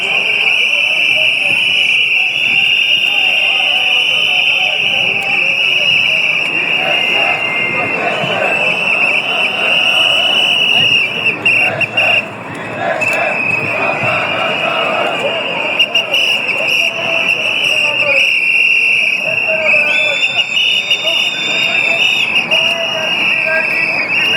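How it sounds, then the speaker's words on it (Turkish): Whistles shrill loudly and almost constantly among a marching public-sector sugar workers' union protest, with dense crowd noise and talk underneath for the whole stretch. "Şeker İş Sendikası düdüklerle protesto ediyor"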